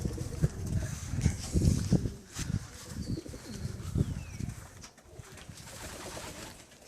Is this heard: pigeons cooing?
yes